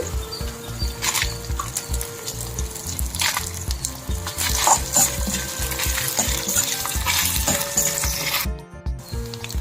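Dried red chillies fry in hot oil in a pan for a wood apple chutney, giving a constant close sizzle with crackles and pops throughout.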